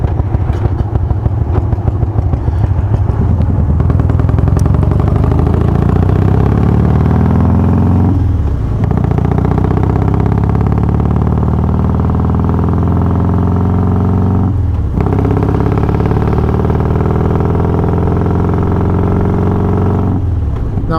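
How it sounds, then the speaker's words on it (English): A motorcycle fitted with Feuling 525 cams, hydraulic cam chain tensioners and a Dynatek TC88 ignition runs loud and close, a deep, steady engine rumble with lumpy pulses and a few brief dips in pitch as the throttle eases. "the engine sound of this bike has been magnified with this new set of cams in it"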